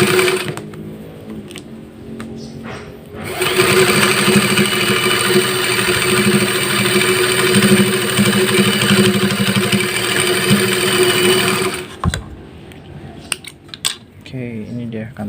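A sewing machine stitches fabric for a pair of drawstring shorts with side pockets, running as a loud, steady close-up whir for about eight seconds, then stopping, followed by a few handling clicks and taps.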